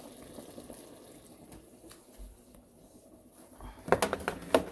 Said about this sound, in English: rinse my hand off in the bleach water, along with my cutting plastic